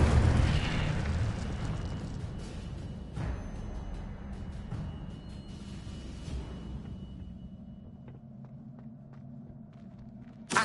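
Incendio fire spell blasts in Hogwarts Legacy, a loud fiery burst at the start decaying into a long rumbling roar, with smaller impacts and crackles scattered through the tail.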